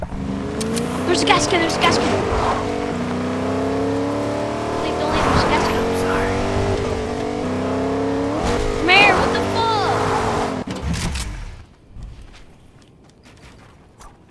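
A car engine in Fortnite drones steadily close by, revving and shifting with some tire squeal, under excited talk from players before it cuts out near the end.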